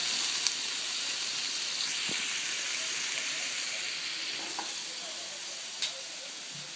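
Pork tenderloin sears in a hot pan with a steady, dense hiss and sizzle that fills the whole stretch at even loudness, broken by a few faint clicks and taps.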